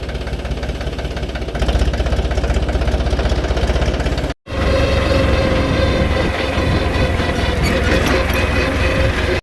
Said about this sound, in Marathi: आलो बघा ट्रॅक्टर घेऊन घरापाशी